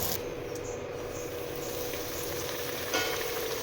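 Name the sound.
luchi frying in oil with ghee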